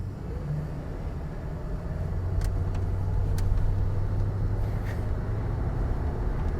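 A 1989 Ford Crown Victoria drives along with a steady low engine rumble and road noise that swells slightly as it picks up speed, no one talking.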